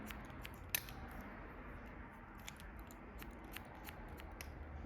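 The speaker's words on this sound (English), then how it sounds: "And then I'm gonna trim on an angle." Scissors trimming a short pixie haircut on an angle, a quiet run of rapid small snips close up with one sharper cut near the start.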